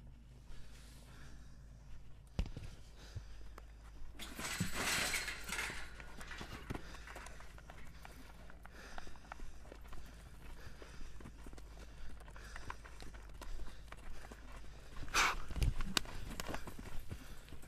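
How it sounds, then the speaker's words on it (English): A horse lopes with soft, rhythmic hoofbeats that clop continuously at a moderate distance, faint and steady, with occasional louder scuffs along the way. "I wanted to see him lope."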